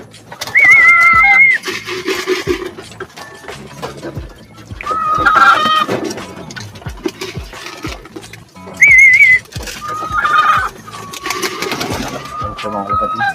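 Racing pigeons arriving at the loft give soft cooing and fluttery bird calls, with people talking close by throughout.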